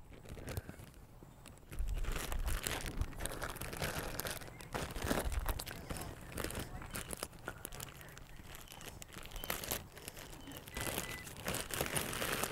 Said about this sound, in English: The protocol is to put the sample into a plastic bag.